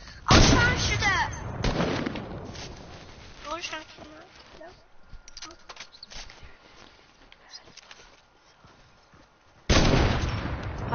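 Gunshots in a video game, loud bursts of rapid fire at the start and again near the end, with scattered quieter shots in between and voices talking over much of it.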